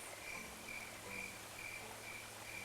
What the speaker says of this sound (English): I can also hear some crickets in the background